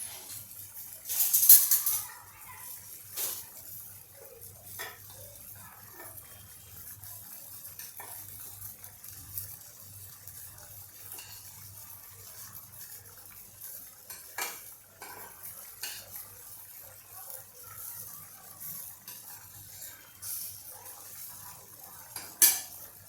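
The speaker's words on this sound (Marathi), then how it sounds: "आता हा भात आपण इथे ट्रेमध्ये काढूया" Hot cooked rice being scooped from a pot into a tray in a home kitchen, heard as sporadic clinks and scrapes of a metal spoon against cookware, with a faint low hum underneath and no talking.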